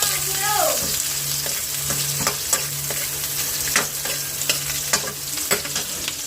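Catfish with onion, garlic, ginger and green chili sizzles steadily in a hot pan, with repeated clicks and scrapes of a utensil stirring at a moderate, close level.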